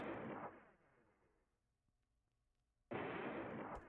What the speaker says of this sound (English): I have this sort of explosion effect going on in the background.